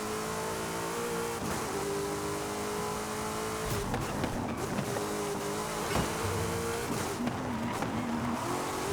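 A race car in Forza Horizon 5 driven hard: a loud, steady engine drone rising through the revs, broken by gear shifts, with brief tire squeal and skids, heard close and alone.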